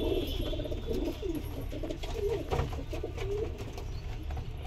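Punjabi pigeons coo steadily nearby in a soft, repeating low warble, layered over constant background hum and faint bird chatter.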